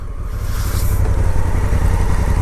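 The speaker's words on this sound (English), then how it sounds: "It is really weird riding a big bike like this with automatic transmission." A Honda Africa Twin big adventure motorcycle with automatic transmission cruising along, a steady loud low engine drone mixed with wind rush, close and continuous.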